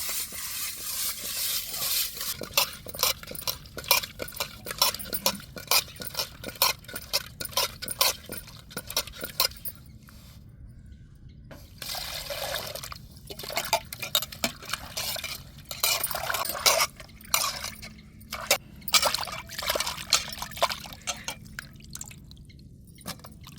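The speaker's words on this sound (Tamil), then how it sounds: "நல்லா உப்பு கல்லை போட்டு நல்லா உரைச்சி தண்ணியில் வச்சு கழுவி எடுத்துக்கோங்க" Fish being scrubbed with coarse rock salt and rinsed in water for a prawn, crab and fish curry, giving close, irregular splashing, sloshing and gritty rubbing with drips and occasional clinks of a vessel, continuing without speech.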